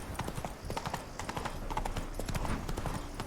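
Horse hooves clip-clop steadily in The Witcher 3 video game, a brisk rhythmic trot of many close, clear hoofbeats running throughout.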